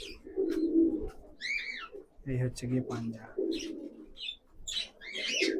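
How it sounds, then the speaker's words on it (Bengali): Loft pigeons give steady low cooing and rolling calls close by, with someone talking briefly over them partway through and faint chirps scattered throughout. "খুবই ছটপটে, খুবই অ্যাক্টিভ পায়রাগুলো"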